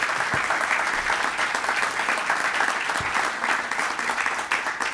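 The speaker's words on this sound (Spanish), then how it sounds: "Un gran aplauso, por supuesto, a Telman Urguelles." Audience applause at a documentary premiere in a museum, a steady dense wash of many hands clapping at close range, continuous and loud throughout.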